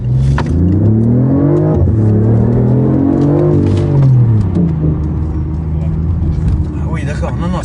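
A 500 hp car with a custom exhaust line revs with a deep, raspy engine note rising and falling close by, while people talk over it.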